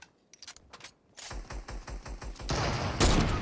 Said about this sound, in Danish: Hvorfor har de alle sammen miniguns?